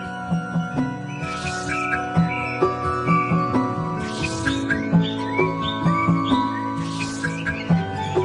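An injured parrot in a cartoon forest scene chirps and whistles in short repeated calls, the tweets coming in clusters over a layered musical background.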